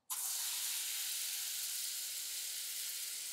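A battery-powered foam sprayer hisses in one steady, close spray that starts abruptly and continues evenly without a break.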